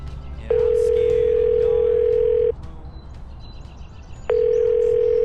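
A telephone gives two long, steady ring-back tones while a call is placed, each lasting about two seconds with a pause between, loud and close over faint background noise.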